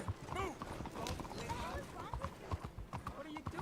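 Hooves clip-clop from a horse in a video game, a steady rhythmic patter under game sounds and a voice talking over it.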